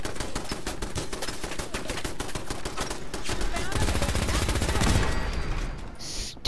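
A machine gun in Fallout 4 fires fast, sustained bursts of rapid, evenly spaced shots that grow denser and louder toward the end, close and harsh, before cutting off.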